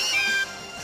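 A short, high, electronic catlike cry from a Pokémon in the game Pokémon Sun, a single bright meow-like call that sounds alone with no talk.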